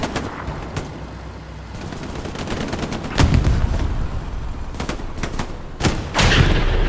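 Rocket impacts and tank gunfire in a Company of Heroes match on the Carentan map, a cluster of sharp shots and booms at a steady battle level, with louder hits near the middle and end.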